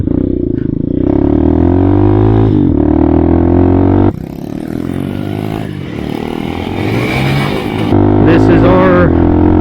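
A modified 2021 Tao TBR7 dirt bike fitted with a 28mm carburetor revs loudly up close, its engine note rising and falling through throttle blips, with clattering mechanical noise and people talking over it.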